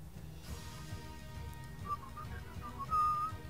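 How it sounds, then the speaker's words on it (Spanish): A person whistles a simple, soft tune up close, a few short thin notes followed by one longer, louder sustained note near the end. "Es el chiflido más básico del mundo."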